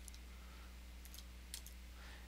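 Computer keyboard being typed on while entering code, a few faint scattered key clicks in short bursts over a quiet hum.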